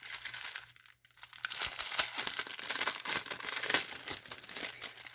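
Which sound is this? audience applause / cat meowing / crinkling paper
crinkling paper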